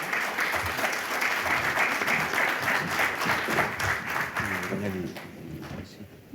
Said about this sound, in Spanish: Un aplauso para entrar en calor, por favor.